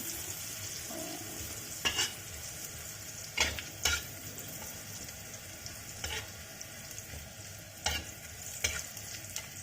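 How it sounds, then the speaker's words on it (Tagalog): Fried rice with salted fish sizzles steadily in a pan, with several sharp scraping strokes of stirring breaking in at irregular intervals over the continuous frying hiss. "Fry natin siya until golden brown."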